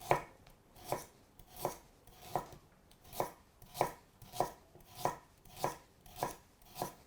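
Carrots sliced into rounds with a sharp knife on a chopping board: a steady, evenly spaced series of about ten crisp knife thuds, close and fairly quiet, with no voices.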